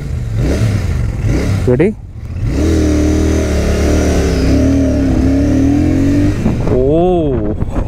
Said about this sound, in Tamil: எக்ஸாஸ்ட் நோட் மட்டும் ரன்னிங்கில் காமிக்கிற பாருங்க